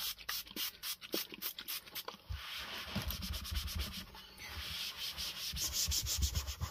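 A card is wiped clean with quick back-and-forth rubbing strokes, close and soft, in rapid repeated bursts that blend into a continuous scrubbing.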